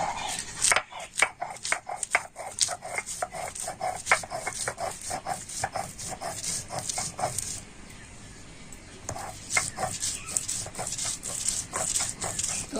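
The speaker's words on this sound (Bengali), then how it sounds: "আমি সমস্ত কিছু এই শিলনোড়াতে বেটে নিচ্ছি" Red lentils, ginger and green chilli are ground by hand on a grinding stone: a rapid, rhythmic series of stone-on-stone knocks and scrapes, close and steady. The strokes pause briefly midway, then resume.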